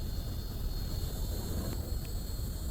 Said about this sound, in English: And the cicada's chiming off at me as well.